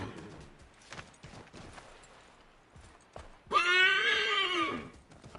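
A horse in the video game Assassin's Creed III gives a loud, close whinny with a rising and falling pitch, following a stretch of quiet game sounds and soft hoof-like thumps.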